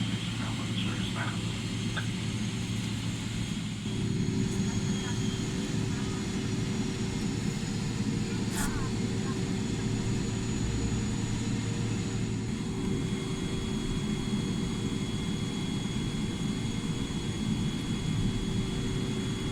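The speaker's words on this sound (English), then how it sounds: "We then taxi all the way to runway 19L." Philippine Airlines Boeing 777-300ER taxiing to the runway, heard from inside the cabin as a steady, loud low engine rumble and hum that continues unbroken throughout, with faint background sounds above it.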